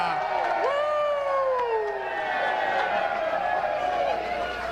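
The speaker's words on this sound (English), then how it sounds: "Can we give a nice big round of applause once again for 16-time Grammy winner Jimmy Sturr" A dance hall crowd cheers and applauds for Jimmy Sturr and his polka orchestra, with loud whoops and shouts riding over a dense wash of clapping and crowd noise that stays strong throughout.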